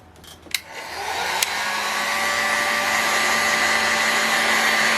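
A heat gun is switched on to warm an aluminium model engine crankcase, a couple of sharp clicks followed by a rising, then steady, loud blowing roar with a faint whine that continues alone for several seconds.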